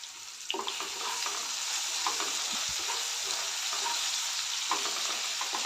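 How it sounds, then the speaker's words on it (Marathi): Tomatoes sautéing in a pan until soft, a steady close sizzle with occasional scraping stir sounds throughout, no talking. "चांगलं टोमॅटो सॉफ्ट होईपर्यंत परतायचं आहे"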